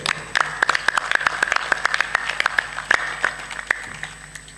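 An audience claps during a spiritual talk, a burst of hand claps with sharp individual strikes at irregular rhythm, fairly close and fading slightly toward the end.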